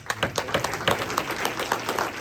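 An audience at a live event claps for the sponsors, a dense patter of many hands that rises and falls in short swells over a couple of seconds.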